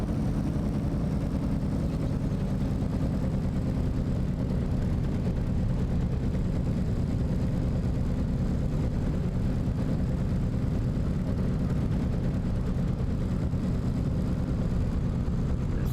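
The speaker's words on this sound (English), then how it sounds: "Big old radial engine on this aircraft is always interesting to taxi" Radial engine of a Carenado Cessna 195 taxiing in Microsoft Flight Simulator, a continuous low, rumbling drone that holds steady and loud throughout with no talk over it.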